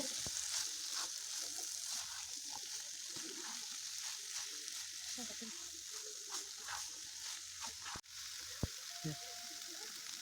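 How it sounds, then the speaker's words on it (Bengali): Parboiled taro being fried and stirred with spices in a pan for a taro and prawn curry, a steady close sizzle with scattered scraping and clatter of the utensil and one sharp knock near the end. "এবার হালকা সেদ্ধ করে রাখা কচুগুলো দিয়ে মশলার সঙ্গে ভালোভাবে কষিয়ে নেব"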